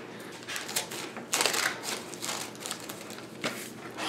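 Crisp, irregular snipping and crinkling bursts up close, like scissors slicing through packaging material, with short pauses between cuts.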